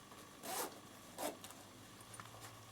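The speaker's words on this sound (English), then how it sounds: "and you zip it up" A zipper on a handmade sewn half-moon bag is drawn closed in two quick, close rasping strokes, the second shorter, then a few faint rustles in a quiet room.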